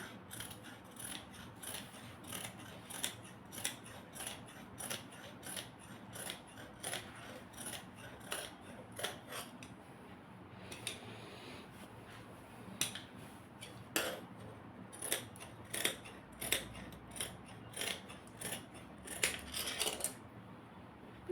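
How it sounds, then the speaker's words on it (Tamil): Scissors snip steadily through cloth for a baby frock, a long run of crisp, regular cuts up close, with short pauses before the snipping picks up again, and no voices. "இதையும் அப்படியே கட் பண்ணுறேங்க."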